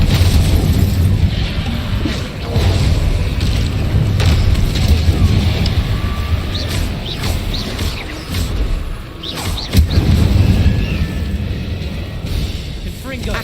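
Bombarda spell explosion from a Harry Potter video game, a loud booming blast among continuous dense game noise, with spoken voice running over it throughout.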